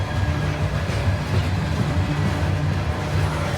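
A train rumbles past on the railway with a steady, loud roar and rhythmic clatter of wheels, close by and with no voices.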